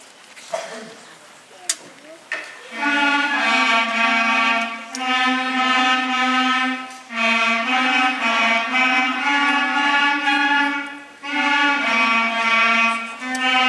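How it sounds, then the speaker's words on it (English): Clarinets in a school-style band play the harmony line of Lightly Row alone, sustained reedy notes in phrases with brief breaks between, clear and close. "we have the harmony line, the B line, that's going to be played by the clarinets"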